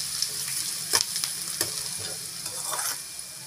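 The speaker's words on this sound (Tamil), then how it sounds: "பொடியை கட் பண்ண வெங்காயம் சேர்த்துக்கலாம். சேர்த்துட்டு நல்லா கலந்து விட்டுக்கலாங்க." Chopped onion fries in oil with whole spices, producing a steady close hiss and sizzle broken by a few light clicks and scrapes as it is mixed.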